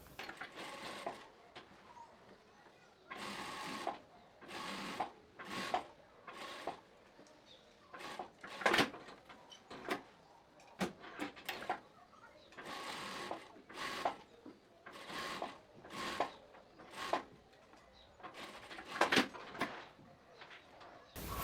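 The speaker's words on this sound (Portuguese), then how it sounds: "eu vou fazer uma costura de segurança aqui, ó, até onde for possível" A sewing machine runs in repeated short bursts, stitching a safety seam on wide-leg trousers, each run a quick rattling whir separated by brief pauses, close and fairly quiet.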